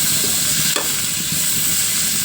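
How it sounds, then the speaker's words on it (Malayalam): Chopped tomatoes and onions sizzle and hiss steadily in a hot pan, with a brief stir partway through, close and loud with no talking. "ഇനി ഈ തക്കാളി നന്നായിട്ട് ഇതിലിട്ടിട്ട് വേവണ വരെ നമ്മളിങ്ങനെ ഫ്രൈ ചെയ്ത് കൊടുക്കുക"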